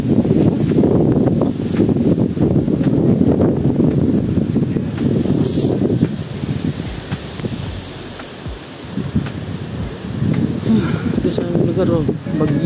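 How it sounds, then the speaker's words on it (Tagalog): Strong typhoon wind gusts roar and buffet the microphone in an empty street, loud and rushing in bursts that ease briefly before building again, with someone talking over it. "Grabe, lakas ng hangin."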